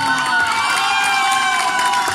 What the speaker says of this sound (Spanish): Un aplauso también para mi hija